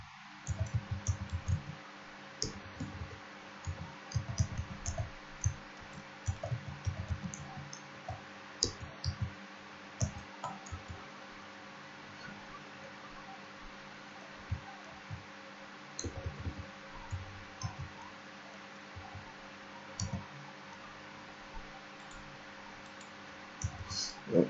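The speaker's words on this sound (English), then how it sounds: "I'm really sorry for my slow typing, guys" Slow, irregular typing on a computer keyboard, with sparse clicks and short bursts of keystrokes that fall quiet in between, heard close against a faint steady hum.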